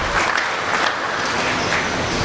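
Loud, dense applause from a crowd at an elite showmanship competition ring, a steady wash of many clapping hands filling the whole short stretch.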